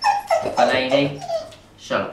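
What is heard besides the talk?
dog whimpering and yipping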